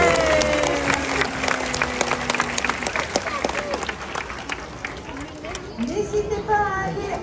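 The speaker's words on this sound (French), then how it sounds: "On peut les applaudir bien fort," Spectators applauding at a penguin show at an Antibes marine park, lively scattered clapping over crowd chatter and children's voices, with a whistle-like tone sliding in the background.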